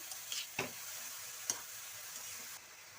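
Grated carrots frying in a pan for carrot halwa, a quiet steady sizzle with a few soft clicks and scrapes of stirring, close and faint, no voices.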